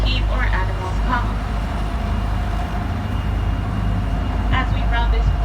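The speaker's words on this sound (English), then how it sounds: "the noise you hear behind you is sounds from the traffic on the Bronx River Parkway" Road traffic on the Bronx River Parkway, heard from a moving zoo tour train as a continuous low rumble and roar, with a voice talking over it.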